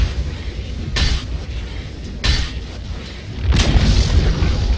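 A Dota 2 tower collapses in a professional match, heavy booming crashes arriving in three separate loud hits over a rumbling battle background.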